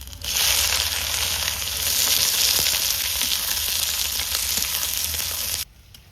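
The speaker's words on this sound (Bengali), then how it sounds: "ফোড়নে দিচ্ছি গোটা গরম মশলা আর তেজপাতা। তারই পাশাপাশি কিন্তু কুচনো পেঁয়াজ।" Whole garam masala, bay leaves and chopped onion sizzle steadily in hot oil for a goat-head curry, a loud continuous frying hiss with faint crackles that cuts off abruptly near the end.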